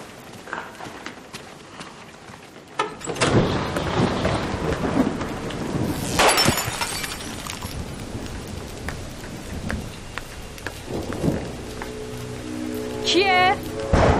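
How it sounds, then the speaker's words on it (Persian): Heavy rain pours steadily with loud rolls of thunder that swell and fade, a continuous close storm filling the whole stretch with a few sharper cracks. "بارون اومده"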